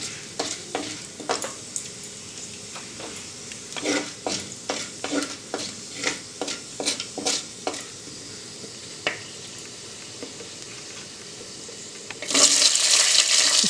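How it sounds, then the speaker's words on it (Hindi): Bay leaves, cardamom, cinnamon and cumin roast in a clay kadai as a spoon scrapes and stirs in a steady rhythm of a dozen or so strokes, ending in a louder burst of sizzling. "2 तेज़पत्ता देंगे इसमें, 2 इलायची, 1 दालचीनी, थोड़ा सा जीरा। इसको थोड़ा सा भून लेंगे।"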